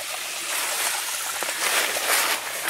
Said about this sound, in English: The water falling down.